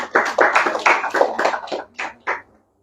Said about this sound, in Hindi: ये बड़ी अच्छी बात के लिए ताली बजा दो इस छोरी के लिए